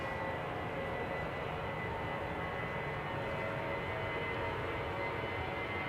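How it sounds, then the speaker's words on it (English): An Electra Airways Airbus A320, 21 years old and flying for Royal Air Maroc, takes off from Schiphol's Polderbaan, its steady, broad engine roar holding at a constant loud level throughout, with no voices. "Electra Airways flying for Royal Air Maroc, I think. Going to Nador."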